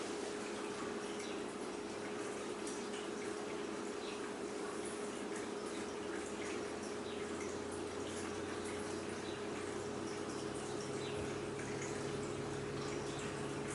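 Water flows steadily and softly in a continuous, even wash, faint and unbroken throughout, with no voices.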